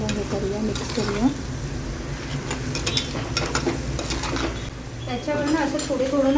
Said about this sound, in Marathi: एक मिनिट आता तेलात अजून चांगलं हे करूया, मिक्स करूया.